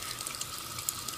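Slow-running tap water over a makeup brush being washed with soap, a faint, steady trickle with a light clicking texture throughout.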